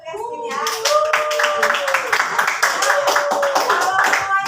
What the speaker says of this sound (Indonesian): Boleh kasih tepuk tangan dulu untuk Yasmin ya.